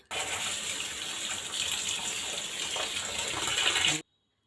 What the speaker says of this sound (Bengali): এখানে আমি চালটা ধুয়ে নিচ্ছি